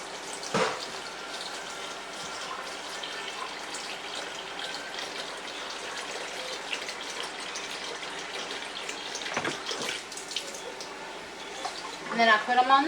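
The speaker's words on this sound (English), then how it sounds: "cover those with water" Water gushes steadily from a tap into a pot of potatoes, a continuous rushing splash with a couple of brief clunks.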